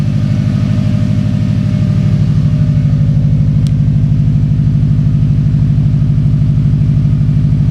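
A BMW M62 V8 fitted in an E30 drift car runs at a steady idle, with a loud, close, even throbbing pulse and no voices.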